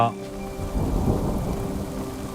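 Rain pours steadily in the Al Baha highlands of Saudi Arabia while a deep rumble of thunder rolls through, the downpour continuing without any voices.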